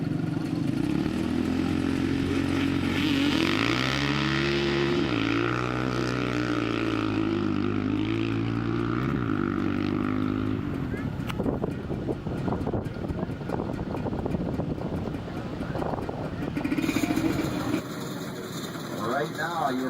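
Yamaha and Bombardier snowmobiles at a winter sled and ATV drag race in Hale, Michigan, engines droning and revving loudly with rising and falling pitch, an announcer talking over them throughout.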